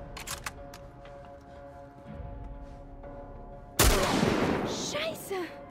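Gunfire in The Last of Us Part 1, a sharp loud blast near the end after quieter game ambience and faint clicks, with a German-speaking player talking earlier in the stretch.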